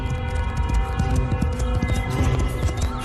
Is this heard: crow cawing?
no